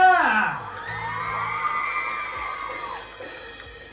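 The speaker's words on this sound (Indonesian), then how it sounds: "berikan tepuk tangan yang paling meriah dong untuk drummer kita" A crowd at the Soul of Art 2026 stage show erupts in cheers and whoops for the drummer, Kak Tasya. Many voices shout together in a sustained, fairly loud swell that slowly fades over a few seconds.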